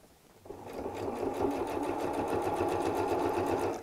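Close, steady whir of a sewing machine stitching a seam on a fabric storage cube, starting after a brief quiet moment and running continuously to the end.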